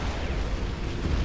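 Cannon towers in the Defense Grid 2 video game fire in a continuous, dense roar of overlapping booms and bursts, loud and unbroken with no talk.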